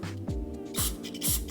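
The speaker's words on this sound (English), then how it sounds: "You wanna go ahead and spray that up." Cleaner sprayed into a Vespa ET4 150cc Walbro WVF6 constant-velocity carburetor in two short, hissing bursts, close up, with faint handling noises between them.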